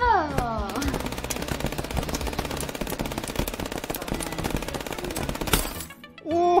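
Sustained rapid machine gun fire in the chess-shooter game FPS Chess, loud and dense bursts running almost continuously for several seconds before cutting off, with a player's voice briefly over the start and end.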